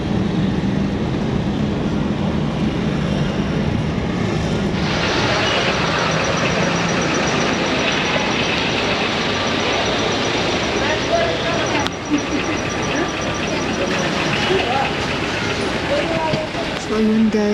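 Street traffic in a traffic jam, heard from inside a taxi: a dense, continuous rumble of engines and road noise that stays loud and unbroken throughout.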